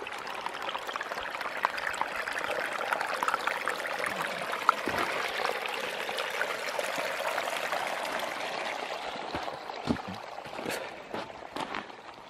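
Water draining out of an outdoor puddle makes a steady, close rushing trickle that runs unbroken for the whole stretch, thinning slightly near the end with a few sharp splashes and clicks.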